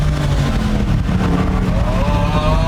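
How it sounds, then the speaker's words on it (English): A 1967 Chevelle SS with a swapped Chevy LS3 V8 roars loudly and steadily from close by, its engine pitch climbing gradually as it accelerates. "Greg swapped the Chevelle's engine for a Chevy LS3, which makes this SS super spicy."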